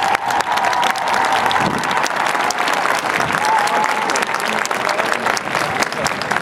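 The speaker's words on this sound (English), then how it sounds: "Could I please have a round of applause for all of the performing students?" Sustained, dense applause from an audience at a high school marching band awards event, loud and steady throughout with some crowd noise mixed in.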